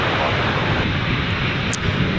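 Airplane engine roaring steadily as an aircraft comes in to land at Gold Coast Airport, a loud, broad continuous rumble with no pauses throughout.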